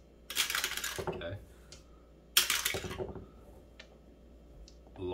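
Dice clatter and rattle inside a backgammon baffle box in two separate bursts, each tumbling briefly before settling, with a few faint clicks between.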